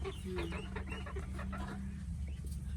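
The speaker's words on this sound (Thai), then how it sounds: "เสียงไก่ต๊อก" Repeated clucking and cackling calls of guinea fowl, fairly close, over a steady low background hum, with no talking.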